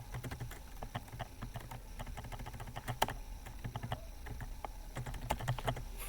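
Someone types code at a computer keyboard, a quiet, continuous patter of fast key clicks with occasional heavier taps, close and alone.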